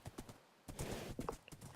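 Horse hooves clip-clop in a video game as a fast new mount is ridden, a quick uneven run of close hoof beats with no talking over them.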